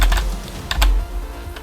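Bracket keys tapped on a computer keyboard, several quick clicks in a loose rhythm over a low background hum, close and clear with no voices.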